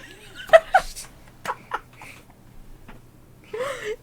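A sharp sneeze bursts out near the start, followed by a second quick burst and light laughter, with a voice speaking briefly near the end.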